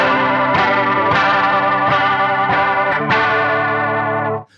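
An electric guitar on its bridge pickup runs through a chorus pedal, ringing out bright, shimmering strummed chords that are restruck about every half second to second, sustaining loudly before a final chord cuts off.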